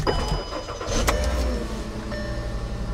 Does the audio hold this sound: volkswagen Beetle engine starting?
yes